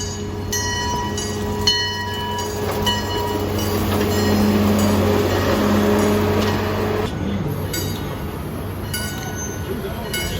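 A roller coaster train rumbles past nearby with a steady roar and some rattling, its wheels squealing briefly, while voices murmur faintly.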